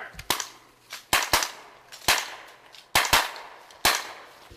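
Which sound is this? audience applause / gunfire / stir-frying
gunfire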